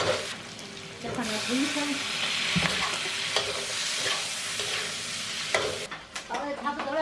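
Homemade doubanjiang chili bean paste stir-fried in a wok: a steady sizzle with scraping spatula strokes throughout, close and loud, while a person talks over it partway through.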